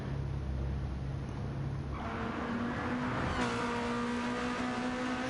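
Race car engines on track in the Gran Turismo video game during an online nations race, with a steady droning engine hum that rises in pitch as a car accelerates, moderately loud and continuous.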